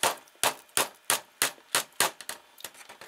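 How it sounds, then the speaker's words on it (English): A computer keyboard held upside down is banged on its corner against a surface to knock out dirt, giving about nine sharp, loud clacking knocks in a fairly even rhythm, close up with no talk. "Bang it in one corner and you see some probably bits of dirt."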